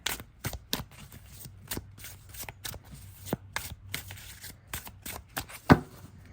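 A tarot deck being shuffled by hand, a run of crisp, papery riffling bursts and soft card slaps in an irregular rhythm, close and fairly quiet, with one sharper tap near the end.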